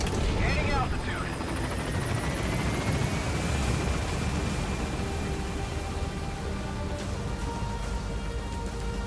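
A helicopter climbing in the video game Metal Gear Solid V, its steady rotor thrum and whining turbine filling the scene continuously, with game speech over it.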